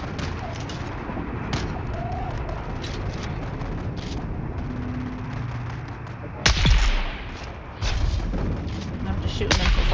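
Gunshots in Dune: Awakening, with a few sharp cracks over a steady ambient rumble and one louder blast standing out partway through.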